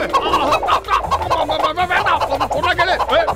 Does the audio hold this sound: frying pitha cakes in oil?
no